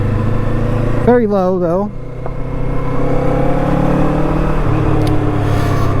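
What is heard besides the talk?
Kawasaki Eliminator motorcycle being ridden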